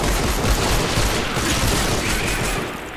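Gunfire in the video game Fortnite, a storm battle mission to find survivors: a dense, continuous rattle of rapid shots and impacts, loud and close, easing slightly toward the end.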